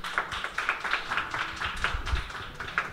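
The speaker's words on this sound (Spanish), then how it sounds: "por favor, un fuerte aplauso" Applause for the bassist at a jazz trio concert, a light, sparse patter of hand claps from a small audience in a rhythmic burst, fairly close and without talk.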